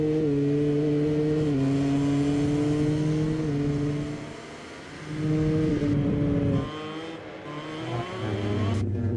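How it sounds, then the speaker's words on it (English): Aprilia RS-GP MotoGP racing motorcycles scream along the track during qualifying at the Czechia Grand Prix, engines rising in pitch through gear shifts, with a brief dip in loudness as a bike passes. "Just stayed quiet there briefly as Ayagura went through that beautiful single shift gearbox on the Aprilia RSGP"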